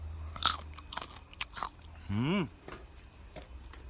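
Close-up bites and crunches into crispy fried fish, a series of sharp, brittle snaps near the microphone with irregular chewing between them and a short muffled voiced sound in the middle.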